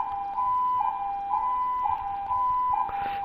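A steady two-tone ambulance siren from a video game alternates in a regular high-low pattern over a faint background hum, sounding moderately close.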